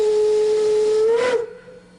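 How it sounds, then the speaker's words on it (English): A Reading single-note freight whistle on a steam locomotive sounds one loud, steady tone with hissing steam for about a second and a half. It then cuts off sharply, leaving a faint hiss. "That's a Reading single note freight whistle."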